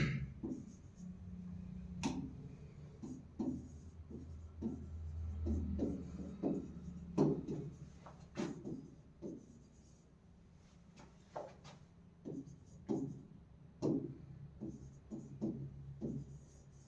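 Chalk or pen writing out a question during an English grammar lesson makes faint, scattered tapping strokes in an irregular rhythm over a low room hum.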